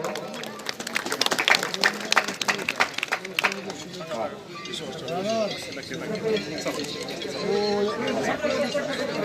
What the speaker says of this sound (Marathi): सरपंच उपसरपंच या सर्वांचंच टाळ्या वाजवून स्वागत करावं